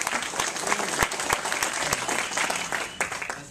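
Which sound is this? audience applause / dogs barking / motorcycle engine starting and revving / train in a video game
audience applause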